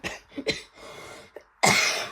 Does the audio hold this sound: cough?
yes